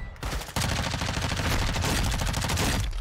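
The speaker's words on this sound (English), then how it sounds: "Anyone else want to shoot at this guy with me?" Sustained automatic gunfire in the Modern Warfare 2 campaign, a dense rapid burst of shots starting after a brief pause and continuing loud and continuous to the end, with no talk.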